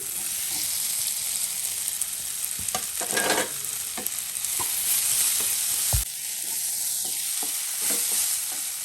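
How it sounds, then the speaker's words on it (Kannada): Fried okra being tipped into a pan of turmeric-seasoned cooking, with a steady sizzle and stirring scrapes throughout and a sharp clatter partway, while a frying hiss continues in the background. "ಇದು ಬೆಂದ ನಂತರ ಹುರಿದಂತಹ ಬೆಂಡೆಕಾಯಿ ಹಾಕ್ತಾ ಇದ್ದೀನಿ"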